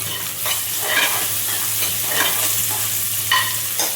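Onions frying and being stirred in a pan, a steady close sizzle broken by periodic scraping strokes of a utensil, with no talking.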